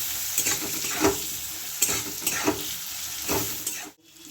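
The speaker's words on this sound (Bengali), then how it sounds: "ভালো করে নেড়ে দিচ্ছি" Raw mango stirred in a pan with turmeric and red chili powder, a spoon scraping and clacking in uneven strokes over a bright steady sizzle, close and alone, cutting off abruptly near the end.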